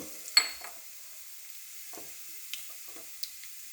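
Mustard seeds, cumin and asafoetida hitting hot oil in a kadhai make a sharp opening crackle, then sparse faint pops and small sizzles over near silence.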